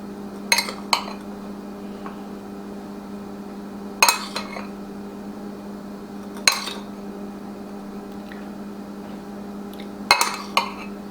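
Utensils clink and scrape against a dish while sausage is added to a healthier lasagna being assembled, with a few sharp taps spaced out over a steady low hum.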